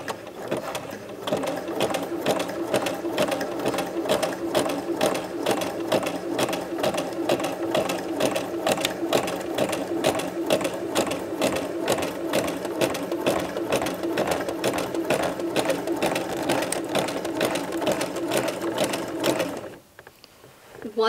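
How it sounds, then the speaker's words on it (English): Sewing machine stitching a zigzag seam on a casual skirt with pockets, a steady fast rhythmic whirring and tapping that runs continuously for about twenty seconds before abruptly stopping, close and alone. "it's okay if when you're sewing this, you go really slow and you stop a lot"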